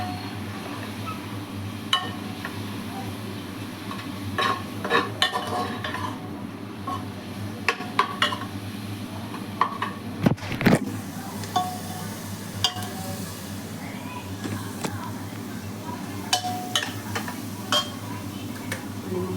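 Ginger and garlic with red chilli powder, pav bhaji masala and coriander powder being stirred and sautéed in a pan, with a low steady background hum under scattered clinks and scrapes of a utensil against the pan.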